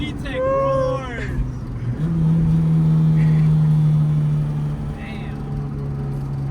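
A Honda CRX engine revs hard under acceleration, its VTEC pitch climbing then jumping higher and holding a loud sustained roar from inside the car, with people talking over it.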